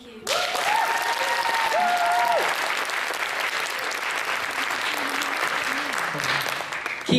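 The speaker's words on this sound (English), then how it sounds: "Keep that applause going, please," Sustained audience applause at a poetry reading fills the room at the Young Poet Laureate auditions in Birmingham, loud and steady, while a voice speaks over the clapping.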